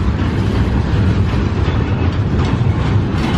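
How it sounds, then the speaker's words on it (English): A large train rolls past on rails close by, giving a loud, continuous rumbling roar that holds steady and fills the whole short stretch without any talking. "Wow, that's a big train."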